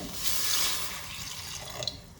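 Water is poured into a pan with turmeric and salt for tomato pachadi, a soft, brief splashing trickle that tapers off, faint and alone.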